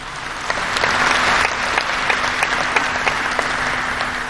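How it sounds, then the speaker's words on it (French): Audience applause at the opening ceremony of the 25th Ecrans Noirs film festival, loud sustained clapping from a large crowd that swells briefly then continues evenly throughout. "Applaudissez pour vous."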